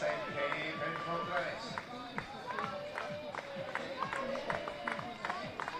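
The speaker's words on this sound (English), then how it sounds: "the announcer and the crowd giving her plenty of encouragement" Stadium crowd at a Paralympic 800 m race in Nottwil cheering a runner home, a steady roar of voices and scattered claps with a public-address announcer talking over it throughout.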